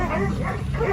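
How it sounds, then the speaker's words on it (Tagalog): A dog barks and yips close by, a short burst of excited barking with a person's voice mixed in. "Di ba yung aso?"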